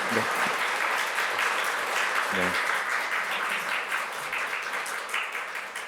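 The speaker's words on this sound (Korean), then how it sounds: "우리 청년들 힘내시라고 격려 박수 한번" Loud, sustained applause from a Korean church congregation at a Wednesday service, cheering on the young people after their worship song, with a voice briefly heard over the clapping.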